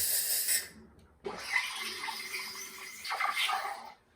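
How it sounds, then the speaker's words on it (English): Steam wand of a De'Longhi ECP3630 espresso machine hissing in two bursts, a short spurt then a longer sustained rush of steam that cuts off, close and moderately quiet. "And we have steam."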